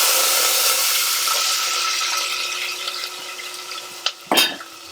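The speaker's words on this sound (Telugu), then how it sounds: "ఇప్పుడు ఆనియన్ వేసుకుందాం." Onions frying in oil in a pressure cooker for chicken biryani, a steady hissing sizzle that slowly fades, followed near the end by a few clattering stirs or utensil knocks.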